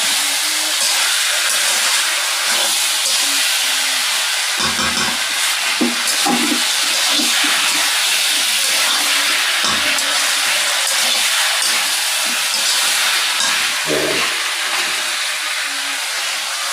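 Water poured into a pan of sautéed curry with hilsa, pumpkin and Malabar spinach, giving a loud, steady hiss and bubbling that keeps up for the whole stretch, with a few clinks, and no talk.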